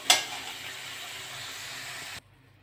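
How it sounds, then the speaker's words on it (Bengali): Potatoes with turmeric and salt fry in a pan, giving a steady, close hiss of sizzling oil that stops abruptly, with no talking. "ভালো করে ভেজে নেবো আলুগুলো।"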